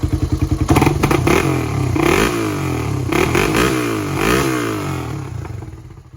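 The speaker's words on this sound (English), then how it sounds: "That's a badass sounding exhaust. That thing is pissed off." A 1985 Honda ATC350X three-wheeler ATV engine revs hard through a loud, throaty Power Pros aftermarket exhaust, starting with rapid popping pulses then roaring up and down in several aggressive surges, close by.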